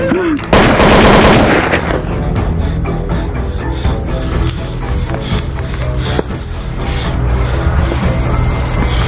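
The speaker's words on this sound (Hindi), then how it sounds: "कौन चला रहा गोली?" Gunfire in a Hindi crime drama set in Allahabad: a loud, dense burst of rapid shots opens the scene, followed by a sustained noisy, crackling din with occasional sharp cracks.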